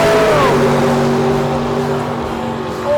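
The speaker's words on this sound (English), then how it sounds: "I don't want to miss this car launching." A nitrous-fed drag car launches at a Buick GS Nationals meet, its engine giving a loud, sustained roar with droning tones that shift in pitch, holding strong before easing slightly near the end.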